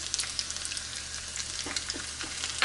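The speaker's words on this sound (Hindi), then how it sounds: "अब हम इसमें ये तिल डाल देंगे" Sesame seeds dropped into a pan of frying garlic give a steady, close sizzle with faint crackles throughout, for a Lehsun Palak sabzi, with no talking.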